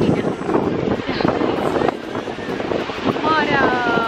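Wind at the seaside on a holiday boat trip over the waves, roaring steadily across the microphone as a broad rushing noise, with voices faintly mixed in.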